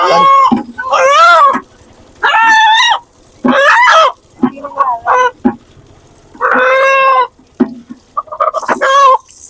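A rooster held by worshippers at the Kota Maisamma temple lets out a series of loud, close clucking and crowing calls in short bursts, separated by brief pauses, with no talking.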